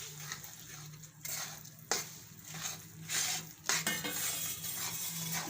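A spoon stirs gund pak mixture with grated coconut in a pan, giving repeated scraping bursts with faint sizzling between them, close and steady, with no talk.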